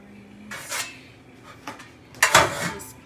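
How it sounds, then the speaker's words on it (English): A metal baking pan for cinnamon rolls handled while being greased with butter, producing several scraping, rubbing clatters and one louder rattling scrape, close up. "Grease it the best I can with one hand, y'all."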